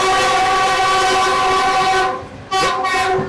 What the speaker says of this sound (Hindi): ये हॉर्न जो है ना बोलने नहीं दे रहा है यार।